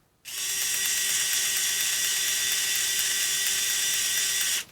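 A TONE CHD221S USB-charged electric screwdriver motor whirs steadily at a high pitch, about 250 RPM in reverse, for a few seconds, close and even, then cuts off abruptly.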